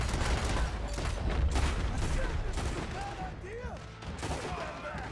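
Rapid pistol fire from Red Dead Redemption 2 crackles in dense overlapping volleys over a heavy low rumble, with whizzing effects cutting through the constant loud game battle noise.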